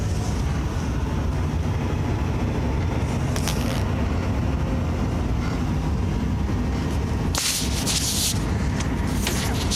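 A New Holland T8.380 tractor engine revs up loudly and steadily in a corn field, with a broad continuous drone and a few brief sharp noises over it.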